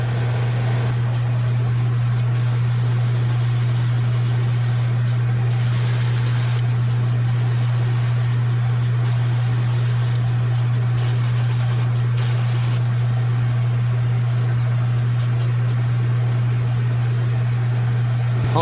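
Steady, loud hiss of an airbrush spraying black and pearl white paint onto a fishing lure, running nearly continuously with brief gaps where the trigger is released, over a constant low hum.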